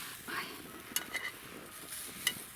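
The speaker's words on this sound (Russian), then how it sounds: "Блины жарятся на сухой сковородке" Faint, quiet sizzling of pancakes in a dry pan on a wood-chip stove, broken by a few scraping clicks of a utensil against the metal.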